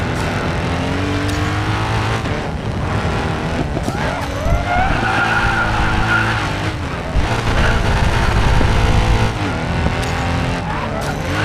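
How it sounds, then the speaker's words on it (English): Car drifting in the Racing Master mobile racing game, tires squealing in long sliding waves over a steady revving engine and background music, loud and continuous without speech. "this race is all about drifting"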